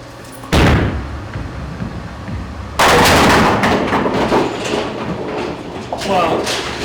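A Storm bowling ball rolls down the lane with a steady rumble, then a loud crash of pins sounds near the middle, followed by scattered clatter as the pins settle.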